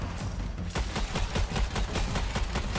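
Rapid, continuous gunfire from a weapon in the shooter game Strange Brigade, a dense stream of loud, evenly spaced shots with no pauses.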